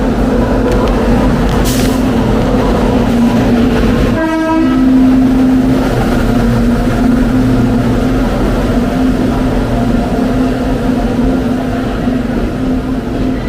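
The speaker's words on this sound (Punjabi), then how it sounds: "ਲਓ ਜੀ ਆਪਣੀ ਟ੍ਰੇਨ ਆ ਗਈ" Heavy, continuous rumble of a train nearby, with a loud horn blast partway through and a low drone throughout.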